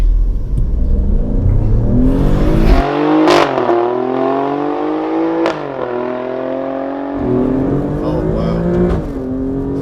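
A 510 bhp Alfa Romeo Stelvio Quadrifoglio accelerates hard at Goodwood, its engine note rising through repeated revving climbs broken by sharp cracks at each gear change, heard close and loud with a brief voiced exclamation over it.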